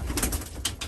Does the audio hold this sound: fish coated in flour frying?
no